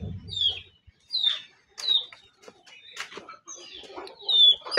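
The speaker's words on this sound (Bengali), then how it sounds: "মুরগির ফার্ম" Chickens on a farm cluck and call in short bursts, fairly close and spaced over a few seconds, with a low rumble at the very start.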